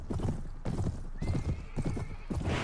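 Horse hooves clip-clopping in a steady rhythm with a whinny, from the medieval combat game Mount & Blade: Warband, heard close and fairly loud throughout.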